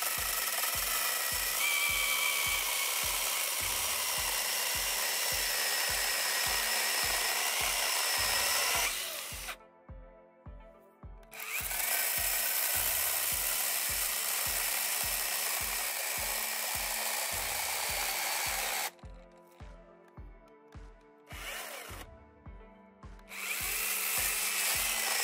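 An AIVOLT battery-powered pruning chainsaw with automatic chain oiling cuts through wood, a loud, steady electric whine over a rapid rhythmic chatter, breaking off briefly twice as the motor stops and restarts.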